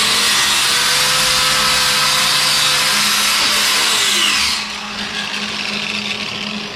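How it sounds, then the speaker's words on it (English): An angle grinder strips leftover paint from the metal of a crew cab truck, giving a loud, steady, close whine with a rough hiss that drops to a lower, quieter run after about four and a half seconds. "I think I'll hit just a little bit more grinding."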